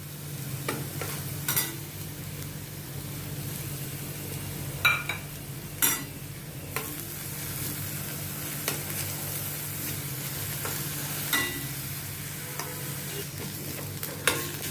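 Chopped onions sauté in oil for a masala eggplant dish, sizzling steadily while a spoon stirs and scrapes the pan in irregular clinks and scrapes, close and clear with no voices.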